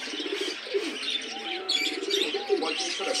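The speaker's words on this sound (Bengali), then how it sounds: "এই যে মুন্ডিয়ান কবুতরগুলো পাবেন খুবই অ্যাক্টিভ" Mundian pigeons coo and chirp close by in a busy pigeon market in Khulna, with voices and rustling mixed in.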